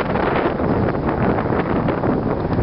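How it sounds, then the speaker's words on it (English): Strong wind buffets the microphone outdoors in a park, a continuous, loud, rumbling roar with no break and no other sound coming through. "So it's obviously very windy."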